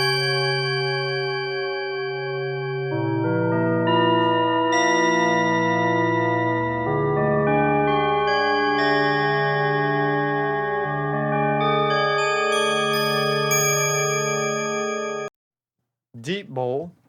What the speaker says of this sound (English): Dream Bowl.